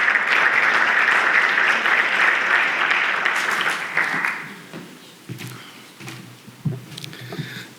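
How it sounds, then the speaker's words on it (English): A conference audience applauds a speaker taking the stage at a professional governance event, a dense, steady wash of clapping that holds for about four seconds before tapering off into scattered claps and room noise. "Please give him a round of applause"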